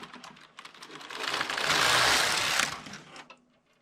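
A Passap E6000 knitting machine carriage is pushed across one row, giving a rising mechanical rush of clicking and whirring that swells near and loud midway, then cuts off.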